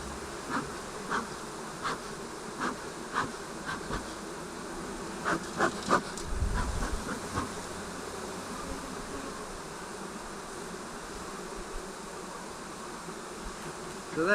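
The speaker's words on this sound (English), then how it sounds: "There's bees down there, so they'll go and find her." Honeybees buzz around a hive during a swarm-prevention split, a faint continuous drone with individual insects passing close at times and a brief low thump partway through.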